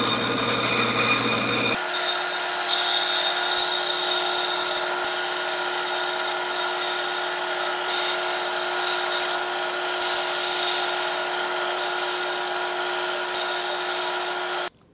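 Power tool cutting scrap blocks of sculptor's foam, a steady loud whine that holds for nearly the whole stretch with brief dips, close by and alone with no talk.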